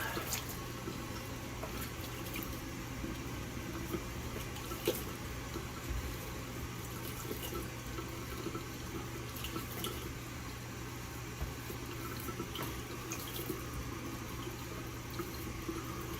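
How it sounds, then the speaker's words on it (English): Tap water runs steadily into a bathroom sink while a man rinses his face after a wet shave, a continuous close hiss of flowing water with occasional small splashes and no talking. "Alright, I'm going to rinse my face off."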